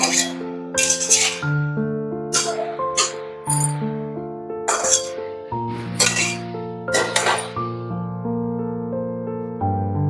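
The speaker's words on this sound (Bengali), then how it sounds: "এভাবে আমি নাড়াচাড়া করে নেব" Shapla stems with kalojira are stirred in a pan, a metal utensil striking it in irregular ringing clinks that sustain and overlap, loud and close.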